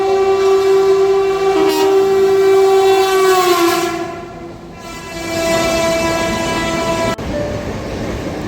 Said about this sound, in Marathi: मुंबईची लाईफलाईन लोकल.